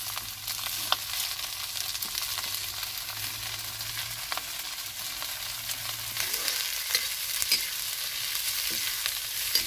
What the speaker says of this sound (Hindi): अब शिमला मिर्च डाल देते हैं।